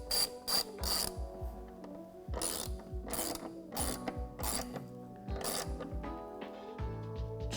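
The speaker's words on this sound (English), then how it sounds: "you're going to use a 4mm Allen key to get this tightened up. We've got it on a socket here to make things a little bit quicker." Ratchet socket clicks in quick bursts while tightening a 4mm Allen-head windshield bolt on a Jeep JL Wrangler, with crisp close pawl ticking repeated through several short runs and no talk.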